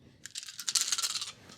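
Dice rattle and tumble across a tabletop during a Dungeons & Dragons game, a short, bright clatter of several small cubes that builds and then settles within about a second.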